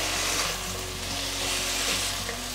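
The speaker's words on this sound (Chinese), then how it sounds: "把所有调味料炒匀" Vegetables stir-fried in a wok with soy sauce, vegan mirin and white pepper, a loud continuous sizzle with scraping stirs running throughout.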